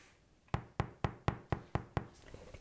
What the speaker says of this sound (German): Kurzer Klopftest.